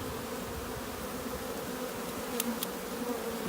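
Honey bees from a three-pound package swarming out of their cage, a dense, steady hum of many wings close by, with a couple of faint clicks, no voices.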